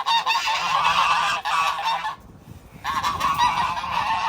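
A flock of ducks calls loudly and continuously while being fed cabbage leaves, the quacking dense and close for about two seconds, breaking off briefly, then resuming just as loudly.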